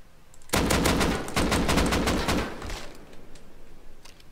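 Automatic gunfire in the survival video game Rust comes as a loud, rapid burst of shots for about two seconds. A few scattered single shots follow with no talk.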